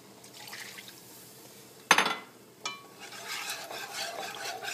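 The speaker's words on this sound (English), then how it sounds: "Just want to stir constantly." Butternut squash mac and cheese sauce being stirred constantly in a pot, a wet scraping and rubbing with a sharp clatter near the middle, a softer knock after, then steady close stirring.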